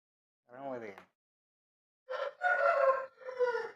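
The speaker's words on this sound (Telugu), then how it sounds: "ఈ కోడికి ఇప్పుడు తెల్లారింది పది పదకొండు అవుతా ఉంటాయి టైం" A rooster crows late in the morning, with a short call followed after a pause by a longer, louder crow, close by and without talk.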